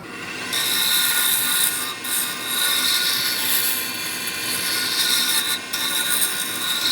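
A wooden pen blank turns on a wood lathe while a tool takes passes at it. The scraping, rushing noise is loud and continuous and stays close throughout, with a slight hitch now and then.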